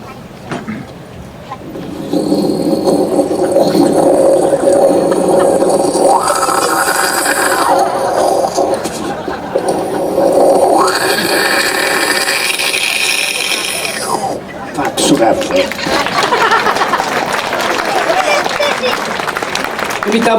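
A voice imitates a moka coffee pot, hissing and sputtering in sustained bursts for most of the stretch, loud and close, amid live stage comedy with an audience.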